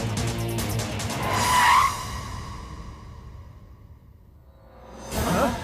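A car in a movie action scene speeds off with a sharp tire squeal and whoosh that rises and fades, then after a quiet gap a second screech bursts in near the end.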